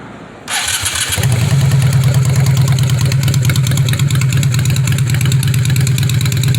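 A 2005 Honda Shadow VLX 600 custom bobber with rejetted carburetor and aftermarket pipes cranks and fires up, settling into a loud, steady, deep idle rumble close by.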